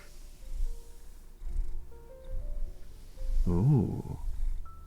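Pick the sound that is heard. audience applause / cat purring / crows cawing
cat purring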